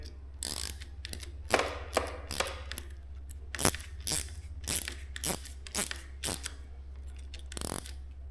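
Ratchet socket tightening a bolt on a Suzuki GSX-S750 motorcycle lever. Crisp close metallic clicks come in short bursts, with a low steady hum underneath throughout.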